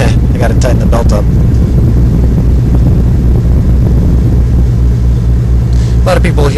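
A car engine idling with loose drive belts, a loud steady low rumble with a rattling, whirring mechanical drone that runs throughout, close to the source and with no talk over it.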